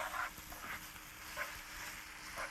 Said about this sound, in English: while this is sauteing in the skillet, because you want this to be brown and a little crispy